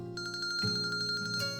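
A phone rings in the Kinkoi: Golden Loveriche visual novel, a short electronic ringtone of quick pulsing tones repeating in a steady rhythm, moderately quiet and heard alone.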